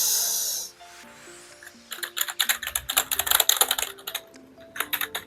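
Typing on a cheap RGB keyboard built to feel like a mechanical one: after a brief rustle, a close run of clicky keystrokes comes in rapid uneven bursts with short pauses, over faint background music.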